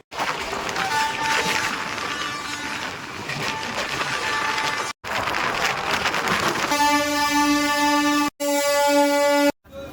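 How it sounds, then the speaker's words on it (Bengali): The Kandari Express, a Howrah–Digha passenger train, pulls out of a station and runs on, its loud, steady rumble and rattle giving way to a long, blaring horn near the end with brief breaks. "ট্রেন আমাদের 1 মিনিট দাঁড়িয়ে আবার ছেড়ে দিল তার নেক্সট স্টপেজের উদ্দেশ্যে"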